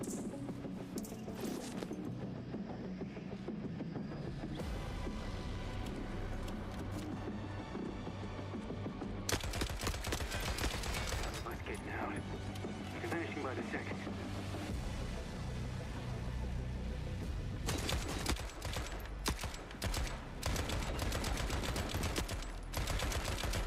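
Sustained automatic gunfire in the video game Forever Winter, dense and loud throughout with mechanical clatter, changing intensity in several sections and no talk over it.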